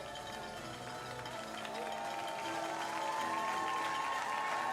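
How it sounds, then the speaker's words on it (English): Crowd cheering and applauding at a para-sport cycling race as riders cross the finish line, a steady broad wash of noise that swells louder partway through, with a commentator's voice faintly underneath. "Great to hear the riders getting a good cheer as they cross the line too"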